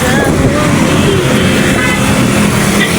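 Steady, loud road traffic with a dense engine rumble and brief car horn toots mixed in, continuous throughout.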